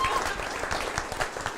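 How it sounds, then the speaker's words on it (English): Audience applause for George at a talk on digital influence in Tallinn, Estonia: steady, dense clapping from a crowd, with some voices mixed in. "round of applause for George"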